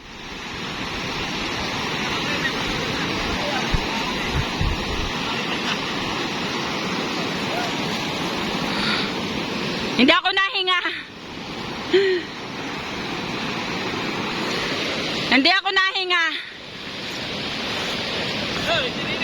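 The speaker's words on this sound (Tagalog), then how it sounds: "Kasi lalaki ng alon na yun" Big ocean waves surge and wash steadily as broad roaring surf, loud and close throughout, with two sharp breaking crashes; people shout and talk over the water.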